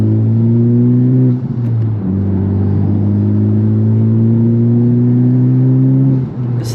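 A Honda Civic Type R engine drones loud and steady while driving, its low tone rising through gears with brief dips at shifts, heard close from inside the car.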